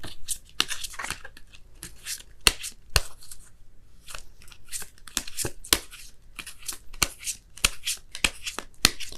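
Oracle cards being shuffled for a reading, repeated crisp riffling and slapping bursts close to the microphone in an irregular rhythm, with occasional soft voice.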